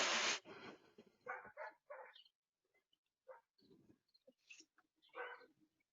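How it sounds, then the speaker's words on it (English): A dog barks in scattered bursts, some sharp and some faint, at moderate distance with quiet gaps between. "my neighbor dog is barking now"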